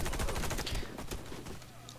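A submachine gun in the video game Warface fires a rapid, rattling burst that trails off within about two seconds, fairly quiet and with no speech over it.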